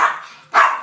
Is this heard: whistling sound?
no